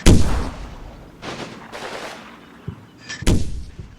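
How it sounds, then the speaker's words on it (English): Light machine gun team firing in a Combat Mission battle near a bridge: sharp, loud bursts at the start and again near the end, with scattered shots and distant rumble between. "My light machine gun team engages the troops as they approach the bridge"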